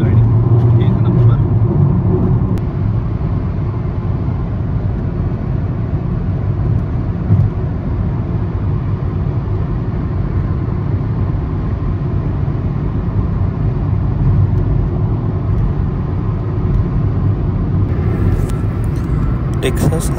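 A car cruising steadily on a long Texas highway gives a constant, even low road and engine rumble throughout, with no change in pace.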